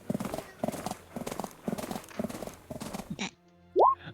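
Horse hooves clip-clop in a steady, even rhythm over several seconds, close and distinct, then stop, and a short whinny follows near the end.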